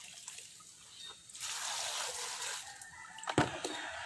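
Water trickles slowly from a household tap, a soft, steady hiss and dribble that swells in the middle, with a few faint background sounds and a brief knock near the end.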